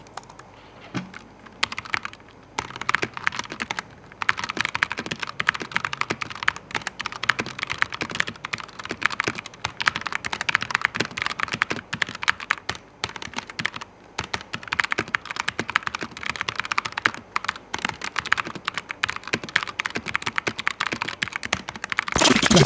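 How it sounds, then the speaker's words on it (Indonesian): Typing on an Ajazz AK680 Pro mechanical keyboard: a steady, close stream of crisp key clacks and thocks with occasional louder spacebar hits, continuous for over twenty seconds with no talking. "buat kalian yang penasaran dengan gimana feel dan suara ngetiknya menggunakan keyboard ini, bisa cek di footage berikut ini"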